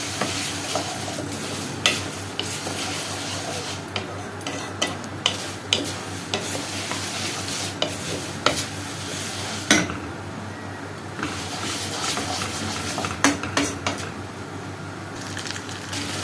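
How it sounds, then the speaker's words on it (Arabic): Vermicelli fries and is stirred in a pot for Egyptian koshari, a steady close sizzle broken by frequent scraping and clinking strokes of a utensil against the metal, with no talking. "طبعا احنا عارفين تحمير الشعريه"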